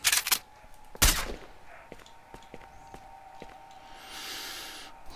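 Gunfire in the video game S.T.A.L.K.E.R. Shadow of Chernobyl: a few sharp, loud shots near the start, then softer scattered cracks and footsteps, with a rising whoosh near the end.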